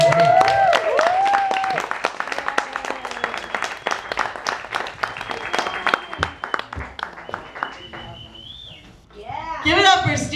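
A comedy club crowd applauds for comedian Steve Bolia with rapid, dense clapping and some whoops, while a loud voice talks and shouts over the applause throughout.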